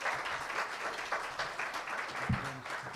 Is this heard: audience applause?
yes